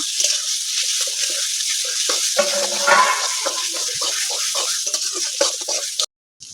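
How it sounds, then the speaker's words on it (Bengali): Hyacinth bean paste stir-fried with onion in a hot pan, bright sizzling under repeated scraping and stirring strokes, close and fairly loud, cutting out abruptly near the end. "ভালো করে কষিয়ে নেবো নেড়ে চেড়ে।"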